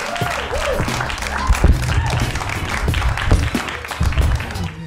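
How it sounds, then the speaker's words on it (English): A comedy club crowd in Chicago applauding and cheering for the host, dense sustained clapping with whoops over it and a voice briefly audible, loud and close. "Give it up for Marz, your host, yeah?"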